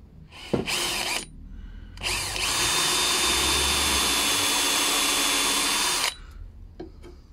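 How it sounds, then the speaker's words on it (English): An electric drill with an 8mm bit bores into a loose joint of a wooden chair, running loud and steady in two bursts: a brief one, then a sustained run of about four seconds before it stops. "So now I can drill this one"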